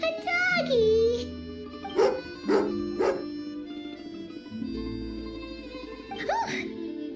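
A dog in Genshin Impact barks three sharp times in a steady rhythm, with higher yips before and after, close and clear over a soft game music bed.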